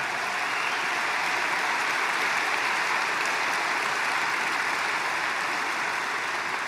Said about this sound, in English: Let's give them a really special hand.